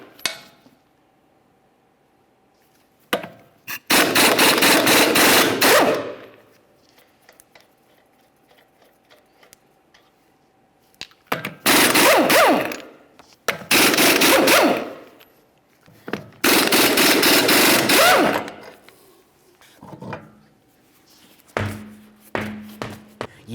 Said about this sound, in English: we're going to continue on with a 22mm to remove each of our 5 lug nuts and then remove the wheel from the area